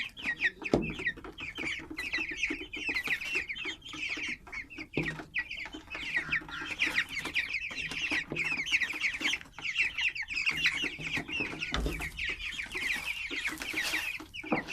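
A flock of chickens clucking and chattering continuously while eating bread and cooked rice, close by and busy, with occasional soft knocks and thuds under the dense clucking.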